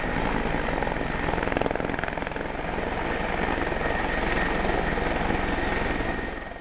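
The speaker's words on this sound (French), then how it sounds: "L'entraînement d'aujourd'hui nécessite un hélicoptère Griffon." A Griffon military helicopter flies over a field during an army training exercise, its rotor thumping rapidly and steadily with a constant engine whine at moderate distance, faintly fading at the end.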